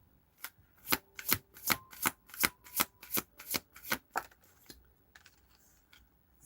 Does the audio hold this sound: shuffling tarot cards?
yes